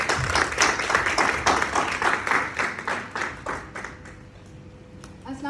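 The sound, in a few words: audience applause welcoming a speaker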